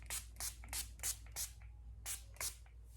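Repeated short hissing bursts of a Revolution mattifying makeup setting spray bottle, about eight quick pumps in an irregular rhythm, close up.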